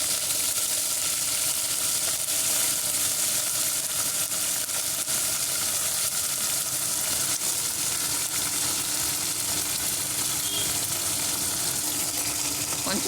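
Dried red chillies, coriander and curry leaves fry in hot oil in a pan for sambar rice, giving a steady, dense sizzle that continues without a break and with no talking.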